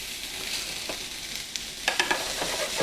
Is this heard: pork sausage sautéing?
yes